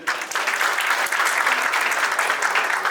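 An audience at a Malayalam film launch event breaks into loud, steady applause, a dense crowd of clapping hands filling the room without pause.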